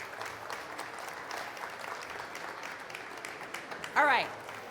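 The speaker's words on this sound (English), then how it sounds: "let's give one more big round of applause and thank you to Chef Victor Villareal" Audience clapping during a live celebrity chef cooking demo for dry-aged salmon, a steady crowd applause with a brief loud whistle near the end.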